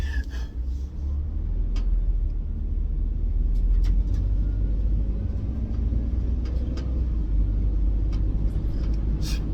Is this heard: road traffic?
yes